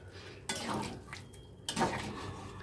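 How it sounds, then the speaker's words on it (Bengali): Hot water poured into a cooking pan of ginger-scented filling for koraishutir kachuri, two bursts of splashing and hissing at close range, with clinks of utensils in between. "এবার আমি একটু গরম জল দিয়ে দিচ্ছি।"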